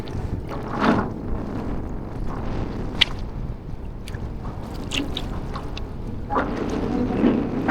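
Wind buffets a boat out on the water, a rough rumbling roar with occasional gusts and small knocks, fairly loud and close, with no talking.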